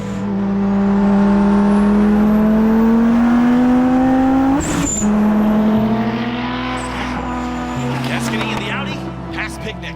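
A five-cylinder Audi S1 race car charges up the Pikes Peak hill climb with a loud, rasping engine note that climbs in pitch, then drops sharply under braking and picks up again, while a commentator talks over it.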